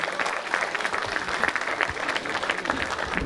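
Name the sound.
audience applause at a mushaira (Urdu poetry reading)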